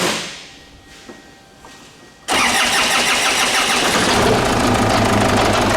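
After a quiet, faint stretch, a Ford Ranger engine with a crank-no-start fault abruptly catches and roars to life, then keeps running loudly and steadily.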